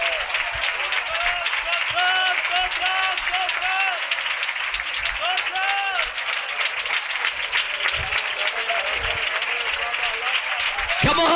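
A church congregation clapping in praise during a worship meeting, loud continuous applause from many hands with crowd voices and singing mixed in throughout.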